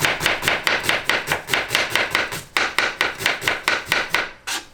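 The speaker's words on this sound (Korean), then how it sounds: "이제 양파를 썰거 칼질이 미쳤어요" A knife chops an onion on a cutting board for a home-cooked dish, a fast, steady run of crisp, loud thuds close up, with no talking.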